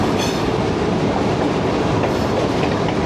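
A train stands at a station on the Lahore to Baddomalhi line, its steady, close, dense rumble and rolling rail clatter filling the whole stretch without pause, with no voices over it.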